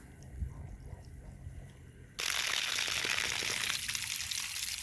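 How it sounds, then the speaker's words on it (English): Water suddenly rushes into a whole-house water filter tank, a FilterSmart/Pentair system with salt-less softener, starting as a loud, steady gushing hiss that continues without pause after a quieter stretch. "It's gonna fill up with water on this tank"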